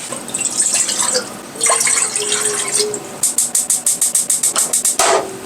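Kitchen tap running water into a pot to boil for instant mashed potatoes, a steady splashing stream with a brief pause, then a quick series of rhythmic drips or taps near the end, close by with no talk.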